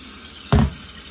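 Tap water gushes briefly and loudly into a sink while chitterlings are rinsed and strained, a short splashing burst standing out from a quiet kitchen background.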